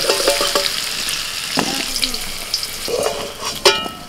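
Whole spices such as cardamom and cinnamon crackle and sizzle in hot oil after a batch of potatoes has been fried, with close, uneven popping bursts and a few sharp clinks over a steady frying hiss.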